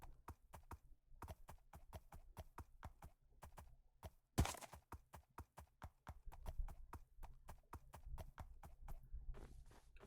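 Horse hooves clip-clop in steady rhythm in Minecraft, a quick continuous run of sharp footfalls with a brief louder thump partway through, no talking.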